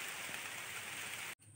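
Rain falls steadily on a mountain, a dense even hiss of drops on surfaces that continues without pause and cuts off abruptly near the end.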